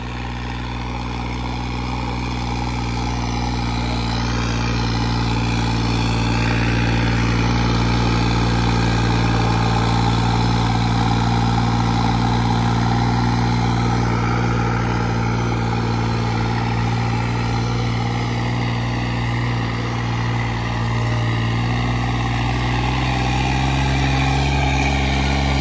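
A tractor engine runs at a rural horse and tractor contest, holding a steady, close mechanical drone at an even pitch throughout, with no voices over it.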